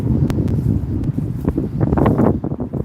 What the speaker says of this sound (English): it is really windy out today